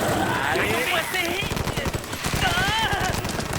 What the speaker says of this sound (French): Tire! Passe-moi un flingue, dépêche!